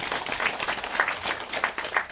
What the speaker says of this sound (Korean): 강사님 큰 박수로 환영 부탁드리겠습니다.